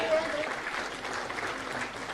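Audience applause at a Jharkhand government appointment letter distribution ceremony for teachers, a steady wash of clapping over the brief moment, with a voice faintly present underneath.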